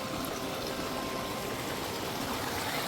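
A mountain stream rushes down the Hoverla waterfall cascades in the Ukrainian Carpathians, producing a steady, dense broadband roar of flowing water throughout with no voices.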